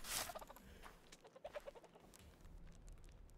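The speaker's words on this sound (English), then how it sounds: "Random chicken attack." A chicken in the Minetest video game makes a sudden close squawk, followed by a few scattered clucks over a low background.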